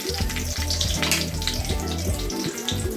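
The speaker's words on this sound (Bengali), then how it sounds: "তেল গরম হয়ে গেছে, ফোড়নের জন্য দিয়ে দিচ্ছি 2টো শুকনো লঙ্কা।" Dry red chillies, a torn bay leaf and whole cumin sizzle in hot oil for a tempering, a steady crackling hiss running under prominent background music with no talking.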